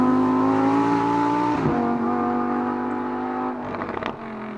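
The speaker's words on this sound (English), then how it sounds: "Let's get it out on the road, find out what it's like to drive." A Lamborghini Huracan STO drives on the road, its engine holding a steady, close, loud drone with a brief shift in pitch partway through and a burst of rougher revving near the end.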